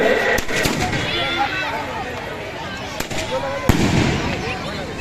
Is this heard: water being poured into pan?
no